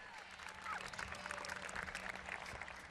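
A crowd claps and cheers at a women's hockey world league match between Germany and England, with steady, distant applause washing through the stands. Faint commentary may sit underneath.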